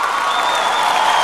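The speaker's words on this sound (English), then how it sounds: "If you are not jealous, who stand up and clap for him." Dense, steady clapping from an audience at a birthday celebration for Prophet Shepherd Bushiri, filling a short moment at even loudness with faint crowd noise under it.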